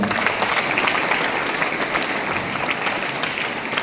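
An audience gives loud, sustained applause to welcome a speaker at a motivational talk, many hands clapping in a thick, even roar that holds for the full stretch.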